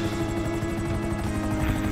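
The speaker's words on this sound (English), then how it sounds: "Look at this chopper. Look, he's shooting at my building." A police helicopter in Grand Theft Auto 5 hovers close by, its rotor giving a loud, steady, rapid chopping throb that fills the whole moment without pause.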